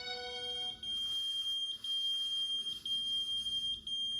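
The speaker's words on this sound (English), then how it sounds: "The sound of a pager going off in the grass a few feet from the victim." A pager's high, thin electronic beeping repeats steadily from the grass over a faint background hiss, sounding somewhat distant and muffled.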